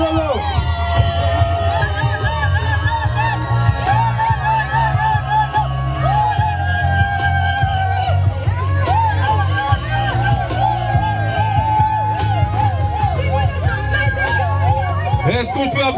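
Wedding guests cheer and shout for the bride, a loud continuous crowd roar with whoops and yells over steady amplified music and a voice.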